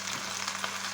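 Onion frying in a pan with thyme and basil nearby, giving a steady, moderate sizzle that holds evenly throughout with no talking.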